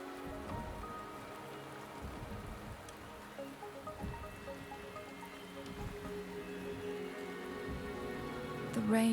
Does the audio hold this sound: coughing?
no